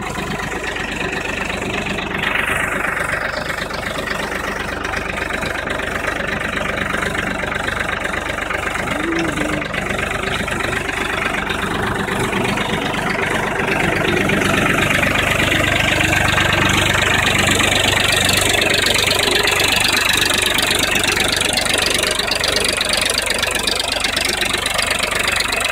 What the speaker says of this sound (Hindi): देखो आवाज़ सुनो, कितनी शानदार आवाज़ है ट्रैक्टर की।